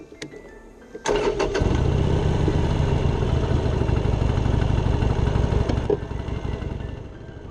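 A motorcycle engine starts with a sharp crank and catches, then runs loud and close at a steady rumble before easing slightly near the end, with no talking.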